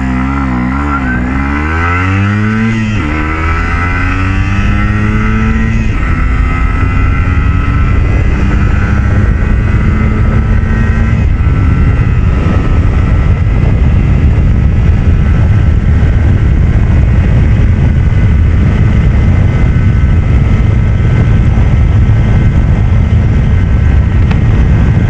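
An MZ ETZ 251 motorcycle revs hard and pulls away from traffic lights, rising quickly through gears, then holds a loud, sustained high-speed roar with strong wind noise.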